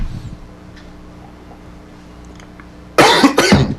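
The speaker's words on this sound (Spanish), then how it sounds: "es que ando un poquito resfriado, disculpen los radioyentes por la tos." A man with a cold coughs during a radio interview: a quiet room tone, then a sudden loud burst of two or three harsh, close coughs near the end.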